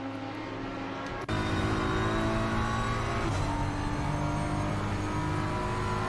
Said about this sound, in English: I wonder if Krabs may be able to overtake the Bentley here.